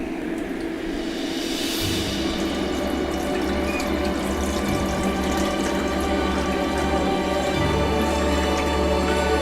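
About a litre of tap water pours steadily and continuously into a water filter machine, a constant rushing trickle lasting several seconds with no talking.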